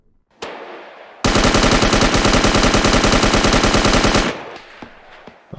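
Fully automatic gunfire in a VR shooter played with a ProTube MagTube VR gunstock: a rapid, loud, unbroken burst of shots lasting about three seconds, framed by a single shot before it and faint scattered clicks afterward.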